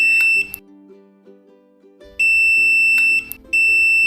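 A COMBO MINI MAX receiver emits piercing electronic feedback beeps each time a remote sends a command, one tone at the start, then a longer pair after a quiet gap, clear and close over a low hum.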